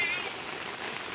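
Rain falls steadily at a riverside campsite, a soft, even hiss of drops that is faint and continuous and carries no speech.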